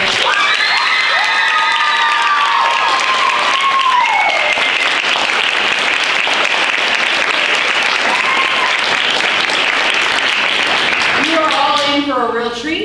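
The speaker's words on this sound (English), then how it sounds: "I wanted to give Julie a round of applause before the show started for all the hard work that she's put in." Loud, sustained applause from a school audience before a fall play, dense clapping mixed with cheering and shouts across the whole stretch, with some whistles or high shouts near the end.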